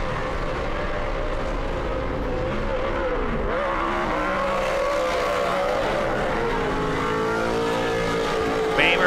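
Off-road racing trucks rev hard in a four-way fight at Crandon during an AMSOIL Championship Off Road race. The engines roar loudly and steadily, swelling and dipping with tire noise, under a commentator's continuous talk.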